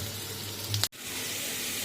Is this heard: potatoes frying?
yes